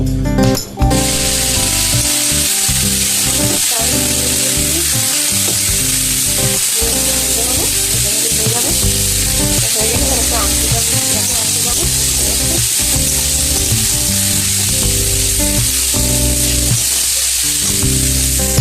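Chowmein frying in a pan gives a steady, loud sizzle with stirring scrapes throughout, while a strong tonal music bed plays underneath the whole time.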